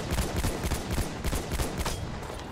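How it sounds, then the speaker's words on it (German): Rapid bursts of automatic gunfire crackle through a Battlefield 1 battle, dense overlapping shots at moderate loudness with no voices. "wovon werde ich denn hier gerade beschossen?"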